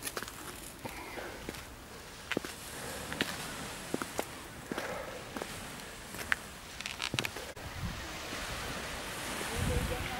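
Baltic Sea waves wash onto the beach at Jastarnia on the Hel Peninsula in autumn, a steady broadband surf roar with wind buffeting the microphone and scattered crunchy footsteps close by.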